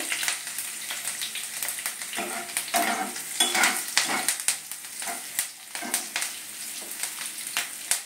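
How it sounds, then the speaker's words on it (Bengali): Chopped garlic and green chilli frying in oil, a busy crackling sizzle with repeated spatula scrapes and clicks as the mixture is stirred, close and steady throughout, no talking. "এবার আমি কাঁচা লঙ্কা কুচি দিয়ে দিলাম, একটুখানি নেড়ে নেব"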